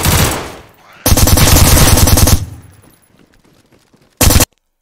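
Automatic gunfire in the survival shooter DayZ, loud rapid bursts at close range: one long volley of about a second and a half, then a brief final burst after a quiet gap, with no talk over it.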